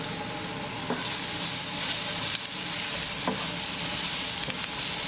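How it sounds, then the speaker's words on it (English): Scarlet gourd (tindora) fries in a pan over medium heat for a paneer sabzi, giving a constant close sizzle broken by a few sharp spatula scrapes and knocks as it is stirred, with no voices. "Keep stirring so it won't get burned."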